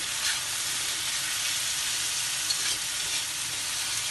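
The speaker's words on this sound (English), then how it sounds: "Mixing the tofu." Tofu sizzles loudly in a hot pan while being stir-fried and mixed, a dense continuous hiss of frying that fills the whole stretch with no talk.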